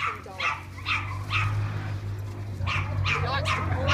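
A very energetic working dog barks in bursts at a Tasmanian dogs' home, several close barks and yips over a steady low hum, with some voices in the background.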